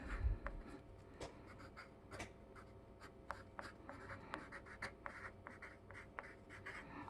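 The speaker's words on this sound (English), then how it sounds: "Pick up my pencil and write my name." A pencil writes a name on paper, heard as faint, close scratching strokes with soft taps at irregular intervals, alone in a quiet room.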